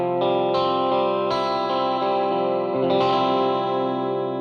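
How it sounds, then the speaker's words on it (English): An electric guitar runs through a Boss MS3 set to modulated reverb, with sustained, shimmering chords struck several times. Each strum rings out in a wide, wavering wash, loud and up front. "I'm going to turn on the reverb on the MS3. Currently, it's set to a modulated reverb."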